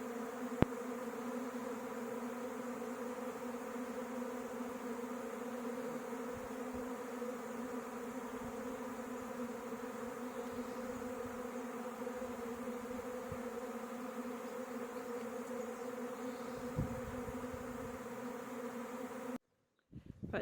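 Honeybees buzz steadily around hive boxes just outside a house on a rural homestead in early spring, a continuous soft drone with a few bees passing close, no talking.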